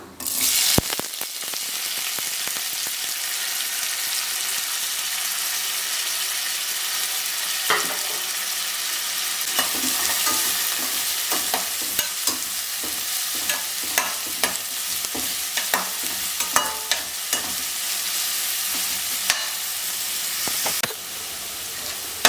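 Sliced large onions sautéing in hot oil with cloves and cinnamon sticks for an egg curry, stirred continuously: a steady loud sizzle runs throughout, broken by frequent scraping spoon strokes, close up.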